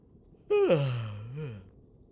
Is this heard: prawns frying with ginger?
no